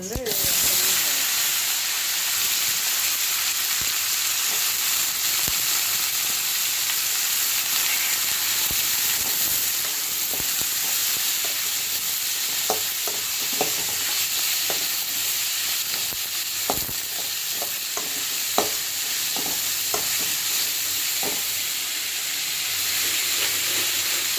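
Mustard seeds, urad dal and moong dal fry in hot oil with a steady, loud sizzling hiss throughout, and scattered sharp pops and crackles from the seeds grow more frequent toward the end.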